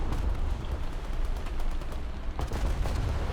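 Rapid anti-aircraft gunfire in a warship-versus-tank video game, a dense continuous rattle of shots with low booms, steady and loud with no pause.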